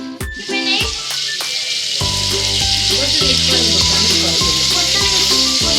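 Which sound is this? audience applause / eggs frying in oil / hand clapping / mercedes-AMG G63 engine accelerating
eggs frying in oil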